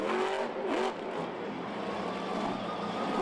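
The Lucas Oil Crusader monster truck revving in a Monster Jam show at Sam Boyd Stadium, Las Vegas, a loud engine roar that climbs and dips in quick bursts over a broad crowd-and-arena wash.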